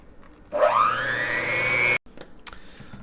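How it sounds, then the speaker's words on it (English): A kitchen blender whirs through a chocolate eclair cake mixture, spinning up quickly to a steady high whine for about a second and a half, then cutting off abruptly, close and loud with no voices. "go ahead and use a blender and we're going to mix it till it's smooth"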